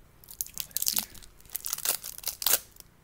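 Someone bites down on super Jolly Rancher hard candy. Several loud, sharp, close crunches come in quick bursts, with no talking.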